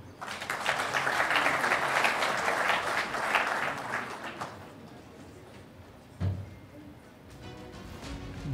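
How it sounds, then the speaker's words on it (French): An audience at the TIF 2022 official opening in Tunisia applauds Safran Tunisie, with dense clapping for about four seconds that then fades to a quiet hall, broken by one soft thump. "Bravo, on peut les applaudir."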